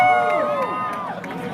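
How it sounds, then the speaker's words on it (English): A crowd at a street rally for Palestine cheers and shouts over a loud, steady background, with raised voices and tonal calls standing out; clapping is not clearly distinct. "A big round of applause for him"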